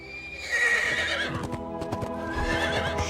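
Horse whinnying loudly in a LEGO Lord of the Rings video game, a long high neigh followed by several sharp hoof clops and stamps, close and clear with no talking.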